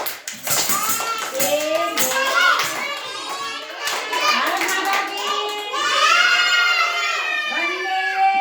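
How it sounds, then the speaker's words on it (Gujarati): Children in a classroom clap in a few quick bursts amid loud overlapping young voices chanting and calling out together, a busy, close group sound. "ચલો સરસ મજાની 3 તાળી આપી દો"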